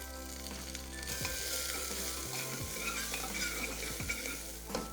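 Sliced onion frying in oil with coriander and cumin seeds, a steady close sizzle with a few stirring scrapes and light clinks of a utensil against the pan.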